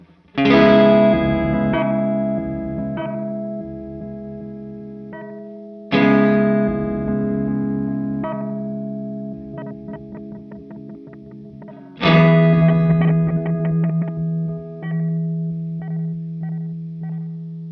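Electric guitar chords struck three times, each ringing out through a Step Audio Pilot Wave step sequencer pedal that chops and steps the sustain into pulsing, shifting tones.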